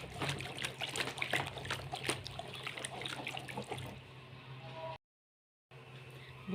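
Liquid poured and stirred while making homemade dish soap: a continuous trickling, splashing pour at moderate level that thins out, drops to brief silence, then returns faintly.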